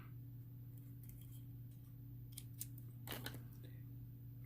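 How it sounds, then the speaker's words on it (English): Scissors snip through a feather quill at a fly-tying bench for a woolly bugger, a quick cluster of faint, close clicks over a steady low hum. "You're going to want to trim that quill off."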